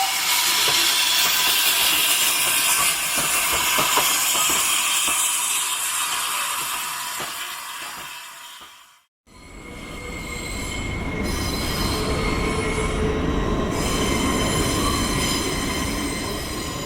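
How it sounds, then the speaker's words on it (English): A standard gauge passenger train runs at Didcot Railway Museum with loud, continuous wheel squeal and rumbling carriage noise, a brief quiet gap midway, then screeching rail sounds again. "I contented myself with a ride on a standard gauge train."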